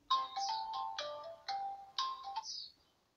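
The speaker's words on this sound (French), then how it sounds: "Désolé pour la sonnerie." A phone ringtone plays a bright electronic melody of short repeated tonal phrases, loud and close, then fades out at the end, with no talking.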